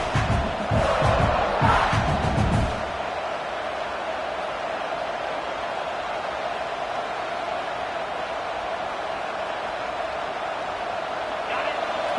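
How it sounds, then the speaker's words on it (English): Crowd noise fills a college football stadium during Alabama versus South Carolina, a steady broad roar from a large audience with a louder swell in the first few seconds, then sustained ambient cheering under light commentary. "Listen to the crowd energy here in the early going."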